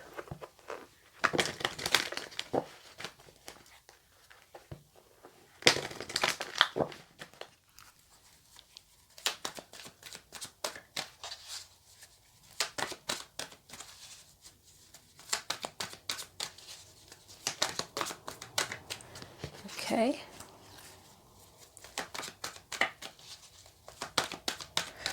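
Oracle cards from the Power of Surrender deck shuffled by hand in repeated bursts of riffling and flicking, with short pauses between rounds and a brief spoken word partway through.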